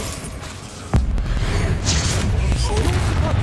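Spell explosions boom during Hogwarts Legacy combat: a sharp blast lands about a second in, followed by a dense, rumbling wash of magical impacts and crackle that stays loud to the end.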